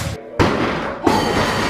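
A door is kicked down in a staged room-destruction scene: two heavy thuds land in quick succession, each one loud and close, with a dull room rumble and a brief lull between them.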